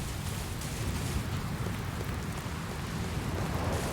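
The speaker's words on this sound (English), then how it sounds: "It certainly started raining hard." Heavy rain falls in the Dragon Quest Builders 2 video game, a dense, steady wash of hiss and low rumble that holds at an even loudness throughout, with no voices.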